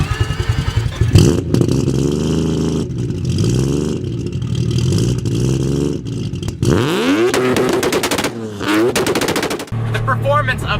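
A three-rotor Mazda RX-7 rotary engine revving hard toward its 8,000 RPM redline with a high-pitched scream, its rapid rasping firing pulses rising and falling in bursts like automatic gunfire.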